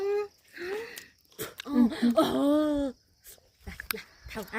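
A dog whimpers in high, wavering whines, mixed with nasal wheezy sounds, close by, with a pause in the middle before quieter whines return.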